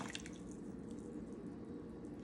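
Distilled water being added in a pH lab, a soft continuous liquid pour with a few faint drips at the start over a low steady background, no talking.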